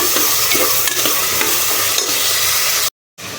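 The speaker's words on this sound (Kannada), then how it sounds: "ಉಳ್ಳಾಗಡ್ಡೆ ಈಗ ಚೆನ್ನಾಗಿ ಫ್ರೈ ಆಗೈತಿ" Onions frying in a pan while being stirred: a loud, continuous sizzle with scraping stirs, then a sudden brief silence before the sizzling returns.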